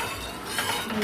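A utensil stirs corn flour halwa mixture in a pan, giving soft scraping and light clinking against the metal in a brief, close, continuous stretch with no voices.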